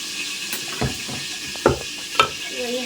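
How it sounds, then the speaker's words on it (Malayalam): Sliced onion and green chilli hit hot oil with fenugreek in a pan for a bone and ash gourd curry, producing a low, constant hiss punctuated by a few sharp stirring knocks. "നമ്മുടെ പച്ചമുളകും വലിയ ഉള്ളിയും കൂടി നമ്മൾ അതിലേക്ക് ഇടുക"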